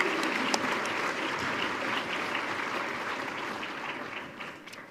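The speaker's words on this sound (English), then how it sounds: "A round of applause for our Sophie." A hall audience applauds steadily at a community scholarship awards event, dense clapping that holds for several seconds and thins slightly toward the end.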